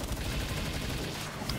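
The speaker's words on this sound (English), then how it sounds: "So we basically gonna burn all of our assault rifle ammo on this shit." Rapid assault rifle fire in Palworld during a raid boss fight, a dense continuous burst of shots at steady volume with no talk.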